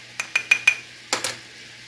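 A spoon stirs garlic powder, paprika and Italian seasoning together in a bowl, giving four quick, evenly spaced clinks followed by two more after a short pause, close and clear.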